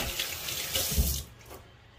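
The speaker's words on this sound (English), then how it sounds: "Now, wash your hands." Water running steadily from a kitchen tap into a sink for hand washing during bread dumpling preparation, loud and close, then fading as the flow stops.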